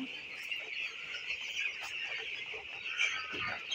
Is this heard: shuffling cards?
no